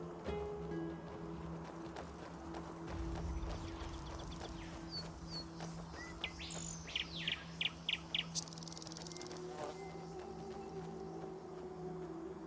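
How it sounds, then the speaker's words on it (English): A firefinch chirping in the video game Enderal, a quick run of bright, evenly spaced tweets in the middle, faint under a steady ambient drone with crickets and other birds. "It's a firefinch."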